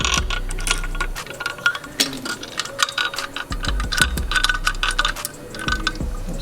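A hand ratchet snugs down the belt tensioner bolt during a Subaru WRX blow-off valve and gauge pod install, giving rapid, close clicking pawl bursts in uneven runs with small metallic knocks between strokes.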